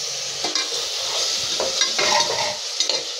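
Ginger garlic paste sautés with onions for a mutton kuzhambu, giving off a loud, steady sizzle that runs the whole time, broken by spatula scrapes and light clinks. The sound is close by and no one speaks.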